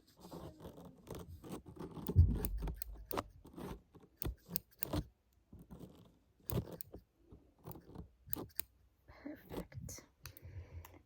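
Small scissors snip close and crisp while trimming eyebrows during a personal-attention grooming session, a steady run of soft clicks and cuts with quiet pauses and faint breathy handling between them.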